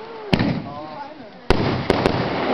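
Fireworks burst with several sharp, loud cracks at irregular intervals while people talk and exclaim nearby.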